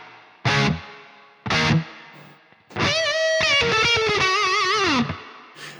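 A distorted guitar run through a reverb plugin with its low cut pushed up to 500 Hz: two short chord stabs, then a sustained sliding lead line with a thin, bass-light reverb tail, loud and alone.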